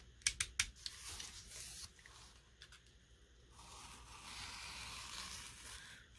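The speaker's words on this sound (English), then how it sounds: "I'm going to cut this out of the book instead of trying to tear it." A craft knife cuts a paper page out of a book: a few sharp clicks at the start, then quiet, close scraping and slicing strokes against a faint background hiss.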